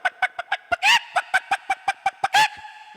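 A performer's voice mimics panicked roosters clucking in a mimicry act, giving a quick rhythmic string of sharp clucks broken by two longer squawking crow-like cries, loud and close.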